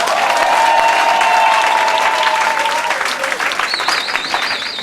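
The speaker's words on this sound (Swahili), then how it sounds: "Piga makofi na vigelegele." A crowd at a Swahili church service claps loudly and continuously, with high, wavering ululation cries rising over the applause near the end.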